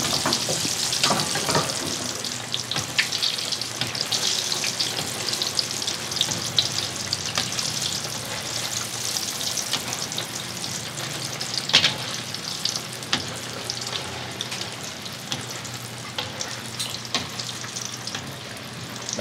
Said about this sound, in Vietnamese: Đậu hũ cũng chiên 2 lần.